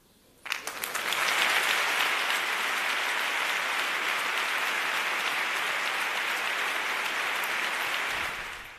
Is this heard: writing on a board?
no